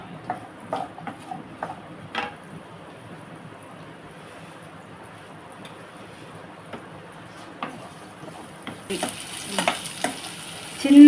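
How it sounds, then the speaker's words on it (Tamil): Slices of raw papaya fry in hot oil, with a soft steady sizzle broken by scattered stirring clinks and taps, growing louder and brighter toward the end. "வறுத்து எடுத்துக்கலாம் எண்ணெயில்."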